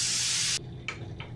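Steam hissing out of a pressure cooker's valve as its pressure is released after several whistles while spinach and mutton cook: a loud, steady burst for about half a second, then two short, fainter puffs.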